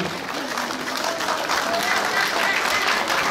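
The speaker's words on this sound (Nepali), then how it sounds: "अभिनव तालीको म अपेक्षा राख्दछु" An audience applauds at a Kirat cultural program in Columbus, Ohio, a dense wash of steady clapping heard alongside a voice.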